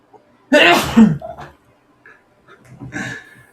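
A single loud, close sneeze bursts out, followed by a few quiet sniffs and small breathy noises.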